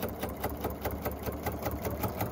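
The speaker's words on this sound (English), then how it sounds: "we're just going to sew right on that line." A sewing machine stitches along a marked line on a quilt sampler block, giving a steady, fast, even chatter of needle strokes at moderate volume with no talking.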